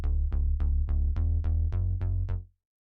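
Harmless "Blue Sunday" synth bass preset played dry without OTT compression: nine evenly spaced plucked bass notes with bright decaying attacks in a steady rhythm, loud and alone, ending with a final sustained note that cuts to silence.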